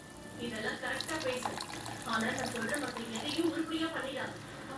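Tamarind water pours and splashes steadily into a pot of garlic curry, a soft continuous trickle with faint gurgles, fairly quiet and close.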